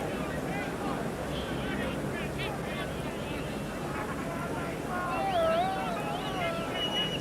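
Strong wind buffets an open rugby ground during a 1973 Great Britain versus Australia test match, a steady rushing roar beneath a commentator's voice that swells slightly near the end.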